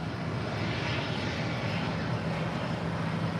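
A Boeing 787-9 Dreamliner airliner arriving at LAX from London Gatwick, its steady broadband engine roar holding constant and fairly near, with no voices over it.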